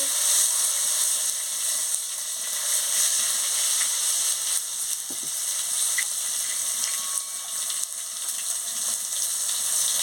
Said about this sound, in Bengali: টমাটম কুচি দিয়ে দিচ্ছি দিয়ে ভালো করে ভেজে নিচ্ছি